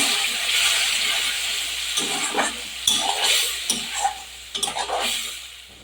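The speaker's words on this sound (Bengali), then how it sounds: "এর মধ্যে আমি এবার দিয়ে দেবো টমেটো বাটা।" Tomato paste from two large ground tomatoes is stirred into hot oil with onions in a pan, giving a loud, continuous sizzle broken by scraping strokes of the spoon, with no voices.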